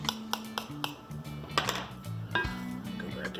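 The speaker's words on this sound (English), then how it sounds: "I haven't even touched this dough yet. Just keep stirring it." A spoon stirs no-knead bread dough in a bowl, giving scattered clinks and scrapes against the bowl over a steady tonal hum.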